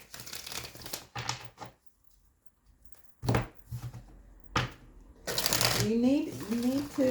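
Tarot cards shuffled and drawn in a few crisp riffling bursts, the longest near the end, with a voice talking over part of it.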